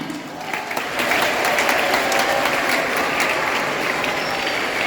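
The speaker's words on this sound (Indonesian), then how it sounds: "Tepuk tangan." Audience applause at the opening of an open karate tournament in a university auditorium in Manado, a dense steady wash of clapping that swells after the first second and holds loud throughout.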